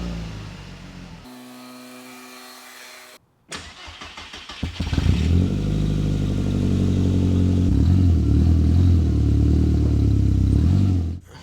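A Volkswagen GTI cranks and catches after a brief silence, then settles into a steady, loud idle and low rumble as it pulls away, heard up close and alone.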